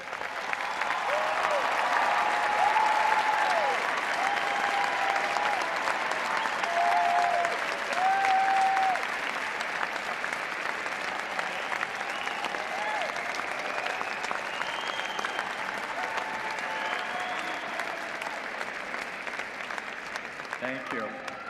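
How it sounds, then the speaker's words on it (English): A large audience at the 2025 Florida State University spring commencement applauds honors graduates with long, continuous, dense clapping, full at first and then thinning slightly but sustained throughout, with faint voices and whoops mixed in. "will you please stand so that we can applaud your accomplishments?"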